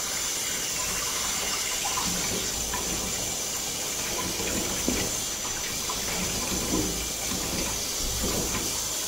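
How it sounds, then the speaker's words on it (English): Hot water pours from a tap during a small Italian greyhound's bath in a steady, close hiss of running water that does not let up, with no talk over it. "She likes the hot water."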